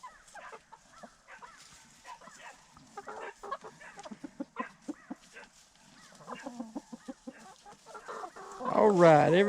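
Farm chickens waiting to be let out to graze cluck and murmur in a busy, uneven chorus close by, with a dog barking briefly near the end.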